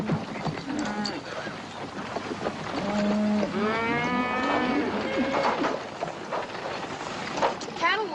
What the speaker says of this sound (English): The cattle will be glad to get a drink.